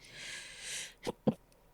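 A person sneezes: a breathy intake followed by two sharp, close bursts, fairly quiet overall and without speech.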